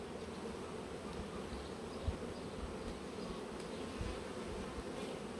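Honey bees hum steadily at an open beehive during a colony inspection, a dense continuous buzz of many insects close by with no voices.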